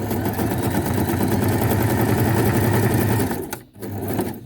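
A sewing machine chain-sewing small fabric scraps into a linked string: a fast, steady mechanical whir running continuously, then pausing briefly before starting up again.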